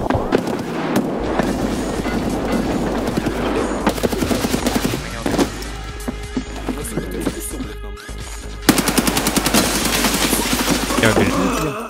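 Gunfire in the online shooter Escape from Tarkov: loud, dense bursts of automatic fire and rapid shots rattle almost without pause, with a sharp fresh volley near the end.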